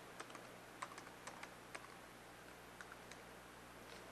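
Keys on a computer keyboard are tapped to enter a password, a sparse run of soft, quiet clicks spaced irregularly over a few seconds with no talking.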